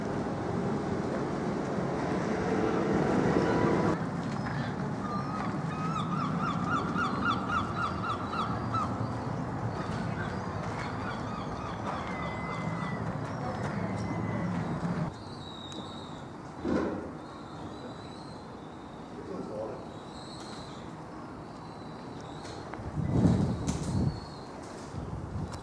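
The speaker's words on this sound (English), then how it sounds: "You can hear the sheep talking a little bit over the seagulls." Outdoor ambience at a castle in North Wales. Gulls call repeatedly over a broad, steady background, and occasional distant calls may come from sheep. The mix is moderately loud at first and quieter later, with no one speaking.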